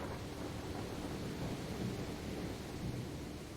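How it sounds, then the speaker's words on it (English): Loud thunder rumbles continuously alongside steady heavy rain, a dense, unbroken storm roar with no voices. "everybody hears incredibly, incredibly loud thunder and then cracks of lightning"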